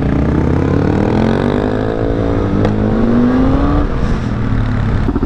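A motorcycle is ridden past with its engine rising and then falling in pitch as it passes fairly close and loud, fading away at the end.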